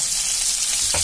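Onion frying in oil with five-spice seeds in a wok, a bright continuous crackling sizzle close up, with a soft stir knock near the end.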